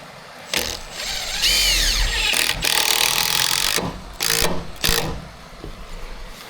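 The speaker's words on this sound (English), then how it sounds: "So all I can do is put some screws in here all the way through" A power drill drives screws all the way through wood, loud whirring bursts of varying length repeating close by, with short pauses and clatter between runs.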